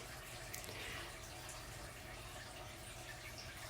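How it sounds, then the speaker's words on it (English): Running tap water flows steadily over cookware being rinsed in a sink, a soft, even splashing hiss that continues throughout without any voices. "now we're gonna rinse a little bit and see what spots need a little more scrubbing"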